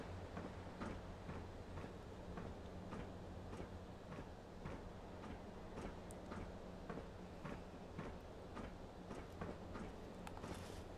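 A train passes in the distance within a Fallout 4 game scene at a drive-in, a faint steady rumble with regular ticking rail clacks repeating through the whole stretch.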